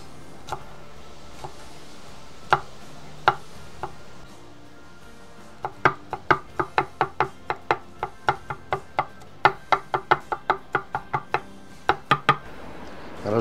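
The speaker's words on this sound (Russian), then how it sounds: "И тоже меленько нарезаем" Garlic being finely chopped with a knife on a board: a few sparse cuts, a pause, then a quick, regular run of sharp close knocks, loud and distinct, with no talk.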